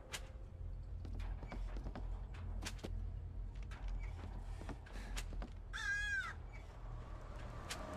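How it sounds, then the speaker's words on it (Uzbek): A crow caws in the Hello Neighbor video game, a loud, close, harsh call rising out of quiet game ambience, with scattered clicks and knocks around it. "Va qarg'a."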